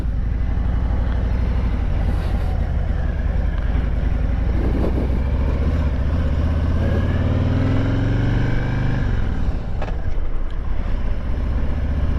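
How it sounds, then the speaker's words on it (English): A 2022 Harley-Davidson Road Glide Limited motorcycle rumbling steadily and loud with a low, continuous engine drone, with wind buffeting the microphone and a slight rise in pitch partway through. "So this is the 2022 Road Glide Limited."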